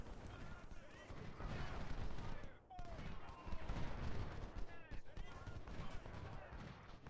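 Sporadic musket shots and artillery fire ring out during the Siege of Jackson in Ultimate General: Civil War, with scattered reports and booms over a continuous battlefield din while someone talks over it.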